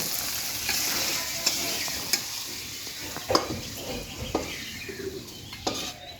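Vegetables, shrimp and chicken fry together in a pan for restaurant-style chowmein, with a continuous sizzle and repeated clinking stirs; faint birdsong chirps in the background.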